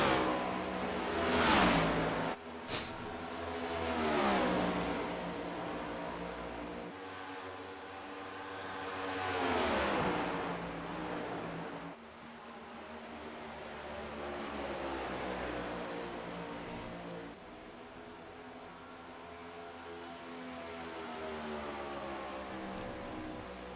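Race cars lap Charlotte Motor Speedway in a racing sim game, engine tones rising and falling as several cars sweep past in waves, moderately loud with no voices over them.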